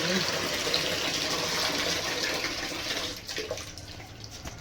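Water poured out to water plants in a Delhi home, a loud continuous gushing splash that eases and grows quieter toward the end.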